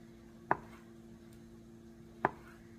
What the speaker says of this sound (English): So we're going to cut these at a slant.